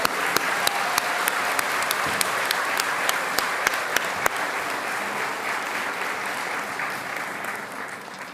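A room full of people at an awards ceremony applauds steadily, dense clapping holding for several seconds before gradually thinning and fading out.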